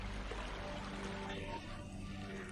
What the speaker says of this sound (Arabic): أوه، إنه شلال.